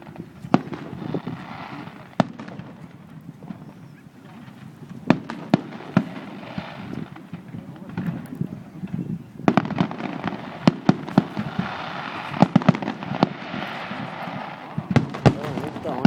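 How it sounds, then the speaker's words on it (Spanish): Fireworks bursting over Jávea, sharp cracks and booms scattered irregularly through the clip, some in quick clusters, over a low crowd murmur with people talking. "No son baratos los fuegos."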